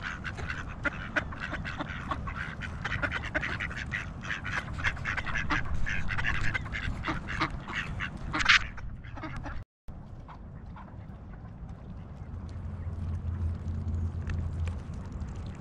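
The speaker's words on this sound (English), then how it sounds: "Enjoying the ducks." Ducks and ducklings quacking close by outdoors, a steady stream of overlapping calls and chatter throughout, with a brief break partway before the calling resumes at a slightly lower level.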